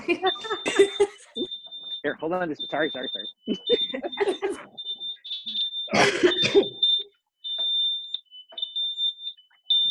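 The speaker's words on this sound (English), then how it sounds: "Firefighter setting off a fire alarm." Fire alarm set off by a firefighter, giving a repeated, piercing high-pitched electronic beep in short bursts with brief gaps, running under close conversation between several people.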